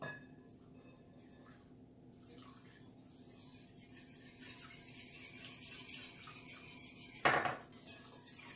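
Soft scraping and light clinks come from 300 ml of almond milk being whisked in a bowl. The sound is quiet and continuous, with one sharper clink near the end.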